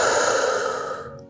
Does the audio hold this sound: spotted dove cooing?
no